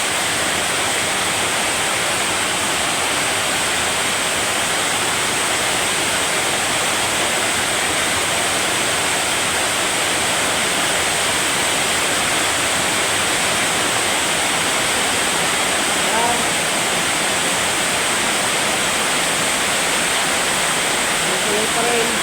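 Heavy rain pours down in a first strong downpour, a dense, loud, unbroken roar that holds steady the whole time.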